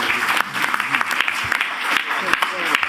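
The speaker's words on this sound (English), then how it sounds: "Please join me in applauding them, and also our brilliant panellists." A debate audience applauds organisers and panellists, sustained crowd clapping with crisp individual claps poking out, while a voice speaks under the noise.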